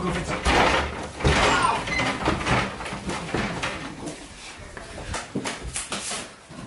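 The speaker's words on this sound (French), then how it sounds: "On la défonce sa porte, on défonce sa porte." Police break down an apartment door with a series of heavy, uneven thuds and banging impacts, while people shout and talk nearby throughout.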